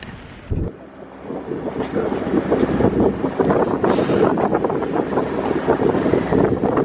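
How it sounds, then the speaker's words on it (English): A sailboat moves along the sea off the Isle of Wight near Portsmouth. Strong wind buffets the microphone over a continuous rush of water and waves against the hull, loud and close with no voices. "So we're just sailing along the Isle of Wight."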